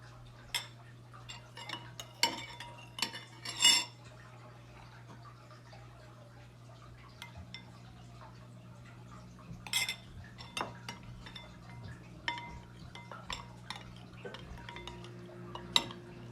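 A utensil clinks and taps against a bowl while flour and salt are mixed for homemade play dough. The light knocks come at irregular intervals, close and fairly soft, with no one speaking.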